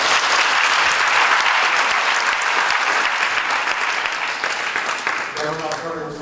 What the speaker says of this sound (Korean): 우리 하나님 앞에 영광의 박수 우리 한번 같이 하겠습니다